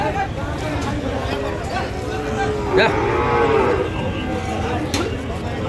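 Friesian cattle at Ambari livestock market in Dinajpur low nearby in a long bellowing moo, rising over a steady babble of crowd chatter and traders talking.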